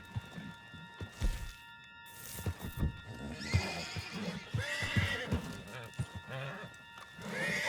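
A horse whinnies and its hooves clip-clop in Red Dead Redemption 2, with a loud neigh near the start and steady hoofbeats running underneath game dialogue and background noise.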